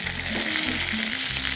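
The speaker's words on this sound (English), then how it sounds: "So, we'll brown our butter." Butter browning over very high heat in a hot pan: a loud, dense, continuous sizzle and crackle, close and steady for the whole moment.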